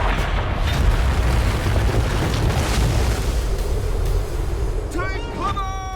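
A thunderous avalanche rumble effect in the film 'The Frost', a dense, loud low roar sustained throughout with bursting booms, easing slightly near the end as faint whooping tones rise over it.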